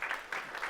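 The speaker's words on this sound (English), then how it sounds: "Let's have a big round of applause, guys." Audience applause for speakers at a tech conference session, a brief steady wash of clapping with slight swells, moderately loud and without talk.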